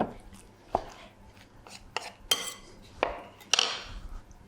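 A chicken and feta sausage roll filling is mixed in a bowl, giving scattered clinks and scrapes of utensil on dish with soft squelchy stirring between them, close and without speech.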